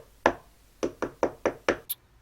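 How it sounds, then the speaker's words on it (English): Knocks on a door, one sharp rap and then a quick run of five hard, evenly spaced raps, close and loud in an otherwise quiet room. "He knocked at the door."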